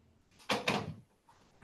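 An unoiled door swings open with a short scraping creak in two close bursts, then a faint knock, near and fairly quiet.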